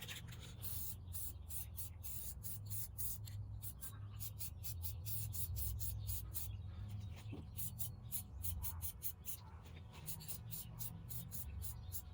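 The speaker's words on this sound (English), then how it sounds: "I'm going to go ahead and spray the chrome pieces first" Spray paint hisses onto chrome headlight pieces from a 2016 Chevy Silverado in a series of quick, close bursts, some short and some sustained, with rattles and handling noises between sprays.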